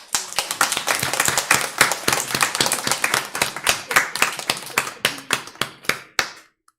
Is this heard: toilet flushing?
no